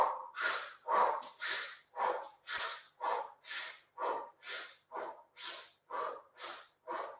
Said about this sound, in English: inhale and exhale through an open mouth